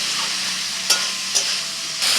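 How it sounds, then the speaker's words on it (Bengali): Prawns stir-frying in a pan with boiled long beans and three green chillies, giving a steady close sizzle with a few sharp scrapes of the spatula, and no talking. "নাড়াচাড়া করে 2 মিনিট চিংড়ি মাছটা ভেজে নেওয়ার পর দিয়ে দিচ্ছি সিদ্ধ করে রাখা বরবটি"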